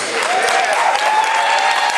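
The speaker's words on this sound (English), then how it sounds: "could we have a rousing round of applause for Dolores Majors?" At an evening community awards event, an audience gives a round of applause for a violinist, steady, close and full throughout, with a faint sustained tone ringing over the clapping.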